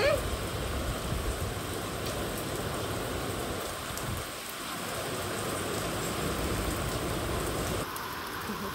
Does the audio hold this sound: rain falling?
yes